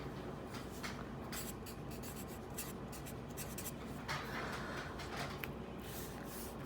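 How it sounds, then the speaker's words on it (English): A pen taps and scratches dots onto paper, forming a circle, in a quick irregular series of light close strokes. "Hopefully you're beginning to see the thing that I'm drawing."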